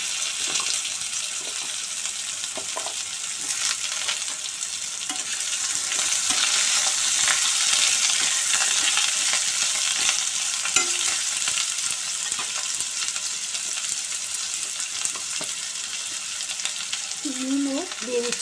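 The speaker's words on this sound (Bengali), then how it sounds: "একটু নাড়াচাড়া করে ডুমো ডুমো করে কাটা কুমড়ো দিয়ে দিচ্ছি।" Cubed pumpkin fries in a pan with a steady, bright sizzle, broken by the scrape and clatter of stirring, close and continuous throughout.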